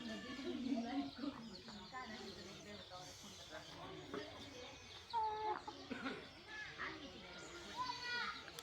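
Clucking and squawking from a sick free-range desi rooster (country chicken) running loose outdoors, with other birds and children's voices in the background and people talking through much of it.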